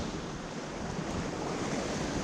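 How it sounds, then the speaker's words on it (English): Wind and ocean waves wash steadily around a Hallberg-Rassy 54 sailing yacht rolling down the New Jersey coast on a mild swell, a constant broad rushing roar with no distinct breaks and no voices. "The waves aren't so bad anymore."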